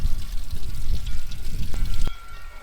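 Water pours and gurgles steadily out of the top of a Ford F1 truck radiator in a shop, loud and close, with a couple of sharp clicks near the end.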